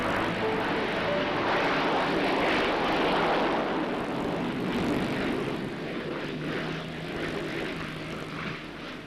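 Steady propeller aircraft engine drone inside the passenger cabin on an offshore North Sea flight, a continuous loud hum with slight swells in intensity and no talk.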